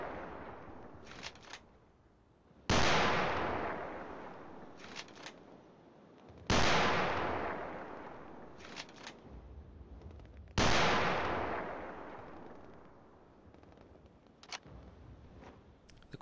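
Three loud, sharp blasts of an anti-tank weapon firing in a video game, spaced a few seconds apart, each with a long decaying tail; faint clicks of reloading sound in between.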